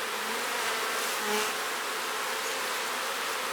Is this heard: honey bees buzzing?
yes